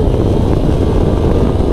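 A 2020 Triumph Street Triple RS motorcycle engine roars loud and close during a wheelie on a road ride, a steady, dense drone with heavy wind rush and no gaps.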